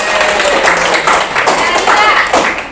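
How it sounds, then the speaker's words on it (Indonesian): A class of students claps their hands together in a dense, irregular burst of claps filling the room, with voices mixed in. "Oke, tepuk tangan dong."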